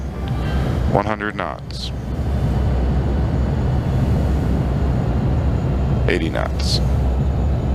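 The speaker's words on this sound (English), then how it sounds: "touchdown spoilers are deployed and the reversers are out" Jet thrust reversers roar steadily during landing rollout in a home-cockpit flight simulator, a broad loud rumble under a pilot calling out speeds over the cockpit audio.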